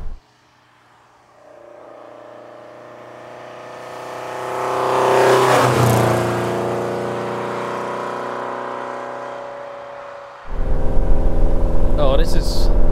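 A 1976 Lancia Fulvia being driven, its engine droning steadily and then swelling as it revs, with a louder burst of road and engine noise near the end; someone talks over it.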